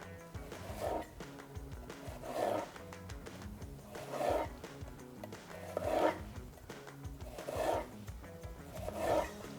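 A long slicing knife from a Ninja NeverDull premium set cuts through food in slow, even strokes, each one a soft scraping swish repeating about every two seconds, quiet and close.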